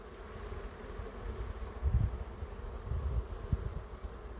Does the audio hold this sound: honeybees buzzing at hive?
yes